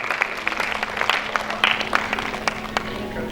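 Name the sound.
audience applause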